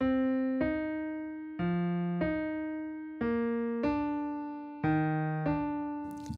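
Keyboard plays two alternating notes in a syncopated rhythm, each struck clearly and left to ring, repeating several times.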